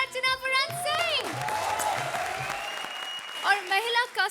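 A Comedy Circus studio audience claps in a dense burst of applause, heard under a musical sting and an announcer's voice.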